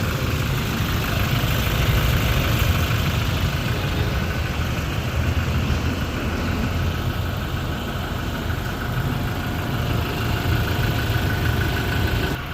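A Toyota Innova 2.8 diesel engine with about 120,000 miles idles steadily after EGR valve and intake manifold cleaning, a smooth, even rumble heard up close for the whole stretch with no talk.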